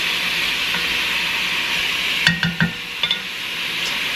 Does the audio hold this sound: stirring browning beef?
yes